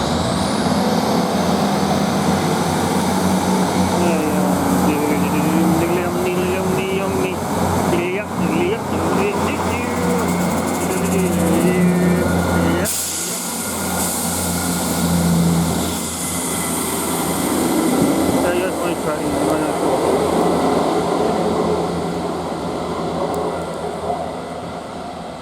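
South Western Railway Class 158 diesel unit 158884 departing Basingstoke on a Salisbury to London Waterloo service, a steady loud engine rumble and hum throughout with a brief brake-air burst midway, under distant talk and station announcement.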